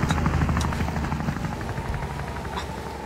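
Helicopter flying in the video game Wobbly Life near a bobsleigh track, a loud steady rotor buzz with rapid chopping pulses, close and alone without talk.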